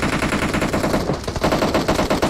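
PUBG battle royale gunfire: rapid automatic bursts crackle loudly and continuously, dense overlapping shots from a match in progress.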